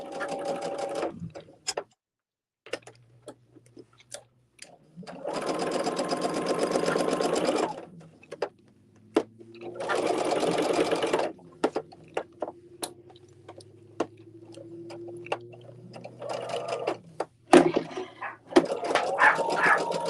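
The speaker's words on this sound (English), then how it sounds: "now I'm sewing that." Sewing machine stitching a quilt block, running in several bursts of a few seconds each with quiet gaps, close and steady, with faint background sounds between runs.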